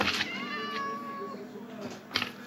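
A Minecraft cat lets out a drawn-out meow, then a shorter one, close and clear over a soft game background with faint clicks.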